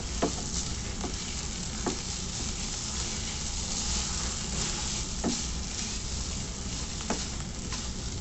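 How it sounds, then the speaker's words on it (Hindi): Vinegar, salt and chili sauce stirred in a hot pan for chicken sizzler sauce: continuous close sizzling and frying hiss with occasional spoon scrapes and clicks against the pan, no speech. "इसको मैं हिलाऊँगी अच्छे से।"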